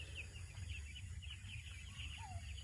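Ten-day-old chicks on a small poultry farm give soft, repeated high cheeps and clucks over a steady low hum of farm machinery, with no talking.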